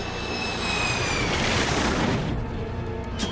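A plane losing altitude and going down in a film scene, heard as a loud, continuous roar of engine and rushing wind with a falling whine, ending in a rumbling burst.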